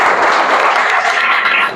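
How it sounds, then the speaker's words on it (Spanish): An audience at a book presentation breaks into applause, a dense, loud wash of many hands clapping at once that holds steady before easing slightly at the end. "Un aplauso para nuestro amigo Joaquín"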